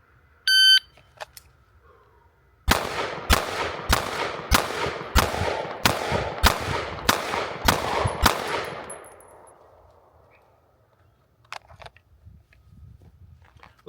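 A BUL Armory Ultralight Pro ported double-stack 1911 pistol fires about ten rapid, evenly spaced shots at a range. Each shot is loud and sharp, with a ringing tail, and a short beep sounds just before the string.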